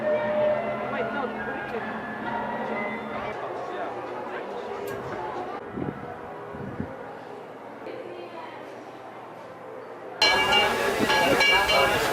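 Disneyland Railroad steam train rumbling along the rails with a steady low roar, muffled chatter and occasional clinks, growing louder and brighter near the end.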